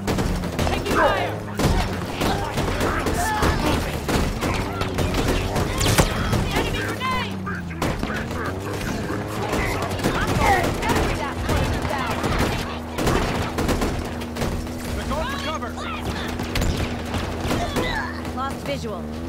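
Rapid, dense gunfire and thumping impacts from a Halo Infinite campaign battle run continuously throughout, with voices calling out over the combat.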